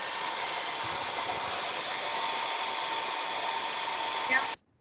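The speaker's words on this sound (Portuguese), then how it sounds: "Secador ligado." Hair dryer running steadily at close range, a constant even whirring blow of air that holds for several seconds and then cuts off abruptly, with faint talk underneath.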